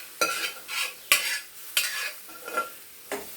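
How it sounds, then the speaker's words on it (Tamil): Mixed chana and moong dal going into a hot pan with spices, a series of sharp sizzling, scraping bursts at a quick uneven rhythm, close and fairly loud, with no talking. "இப்போ இந்த தாலை இதில் ஊற்றிடணும்."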